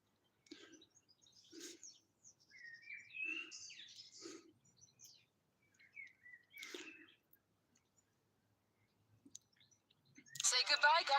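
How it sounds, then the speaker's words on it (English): A few short, high bird chirps come and go between soft voices talking, then a sudden burst of noise at the end. "You hear the birds?"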